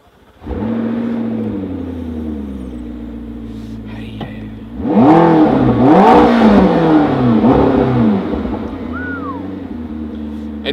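McLaren 12C Spider engine heard from inside the cabin: a starter whir, then the engine catches and idles, followed by several sharp rising revs that fall back to a steady idle, loud and close.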